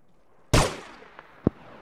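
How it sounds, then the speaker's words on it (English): A single loud gunshot from a video game firefight in Arma 3, a sharp close crack with a decaying tail, followed by two fainter distant shots. "Start providing suppressing fire, northeast"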